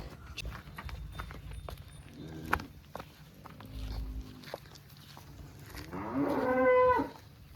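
Four cows and a calf in a shed with shuffling, hoof thuds and rustling, then one loud moo near the end, close by.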